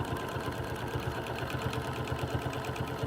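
A sewing machine stitching free-motion quilting in interlocking circles, a quick steady mechanical chatter running evenly at moderate volume with no talk.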